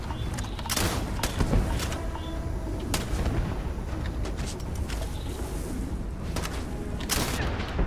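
Heavy gunfire and booming blasts in the space game Starfield, dense and continuous with sharp cracks scattered through a loud rumbling combat din.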